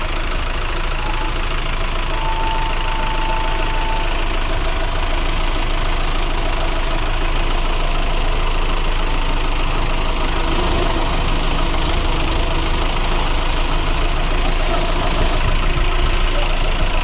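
A stacker's engine runs steadily during loading into a shipping container, a loud, unbroken mechanical drone with a rough knocking texture that holds for the whole stretch.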